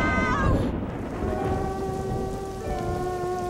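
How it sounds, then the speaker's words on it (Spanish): Cartoon rain and thunder in a swamp, a dense hiss of steady rainfall under a deep rumble of thunder, loud and close, with a high tonal whine running through it. "Está lloviendo."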